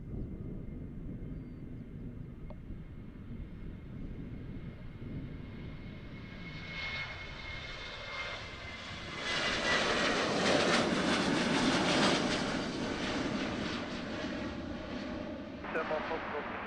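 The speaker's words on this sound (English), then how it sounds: "This one going for Birmingham, KLM, Boeing 737." A KLM Boeing 737 airliner bound for Birmingham takes off from Amsterdam airport. A distant, low jet rumble swells into a loud, broad roar about halfway through, then fades slightly.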